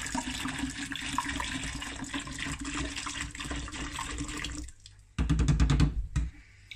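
Water splashes into a container already holding apple cider vinegar, a steady close trickle that gives way to a short louder gush near the end.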